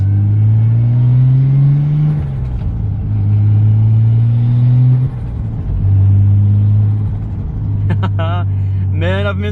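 From inside a Nissan Skyline R33, the engine drones and rises through several accelerations with gear changes, a deep steady hum heard up close.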